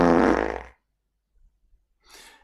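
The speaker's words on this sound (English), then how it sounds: "there is a little bit of a friction with this fart" A fart sound effect from a JavaScript fart button plays once, loud and close, then cuts to near silence before a fainter, shorter second burst.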